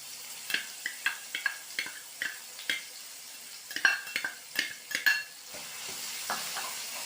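Ground coriander and tamarind paste is stirred into garlic frying in oil in a pan, with repeated wet scraping stir strokes over a soft, steady sizzle.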